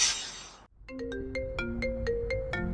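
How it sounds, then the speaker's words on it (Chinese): A mobile phone ringtone starts after a brief noisy moment, a bright electronic melody of rising and falling notes playing clearly and close. "张警官怎么会突然打电话来？"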